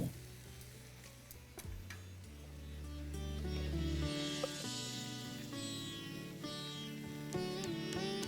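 Potato wedges, green beans and tomatoes sizzle steadily in a frying pan while being stirred, a soft continuous crackle with a few light clicks from the utensil and no voices.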